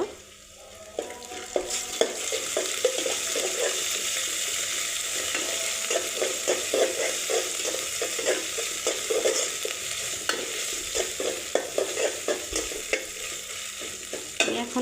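Ginger-garlic and cumin paste frying with onions for a bottle gourd and meat curry, a steady sizzle under frequent scraping stirs of a spoon in the pan, close and continuous.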